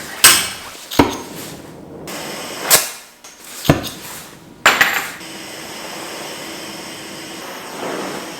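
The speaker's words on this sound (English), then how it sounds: "I'm just gonna get to heating up and hammering" Several sharp metallic strikes from hammering heated metal in a garage ring out at uneven intervals, each followed by a brief fading ring, then a steady low hum.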